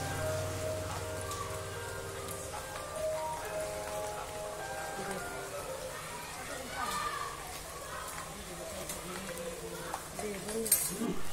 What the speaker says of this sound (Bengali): কীরকম বৃষ্টি পড়তিছে দেখো